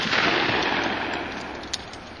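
A skeet shooter's shotgun discharging at a flying clay target outdoors: a single booming report that rings out and tails off gradually, with a small click near the end and no voices.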